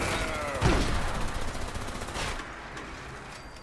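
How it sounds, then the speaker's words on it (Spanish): Grenade launcher fire in a video game: a sharp close shot followed by rapid bursts of gunfire and crackling, loud at first then trailing into quieter background rumble. "lanza granadas."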